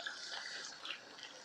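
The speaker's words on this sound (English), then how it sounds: "I'm adding warm water, but hot water. Enough water to soak the meat." Warm water pouring steadily over meat in a pot while cooking biryani, a continuous broad splashing gush with no pauses, close and fairly loud, no talk.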